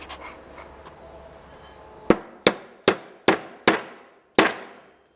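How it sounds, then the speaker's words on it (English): Dead blow hammer tapping a socket to seat a seal on a Simplicity/Befco tiller: after a quiet lead-in, six sharp, close blows land at a steady pace, each ringing briefly before fading. "I'm going to actually use that and a dead blow hammer and use that to seat that seal back in"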